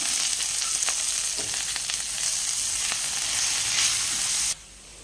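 Chopped onions, green chillies and curry leaves fry in a pan for a prawn pepper fry, with a loud, steady sizzle and occasional stirring scrapes. The sound cuts off abruptly near the end, and no one speaks.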